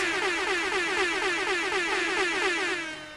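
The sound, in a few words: air horn sound effect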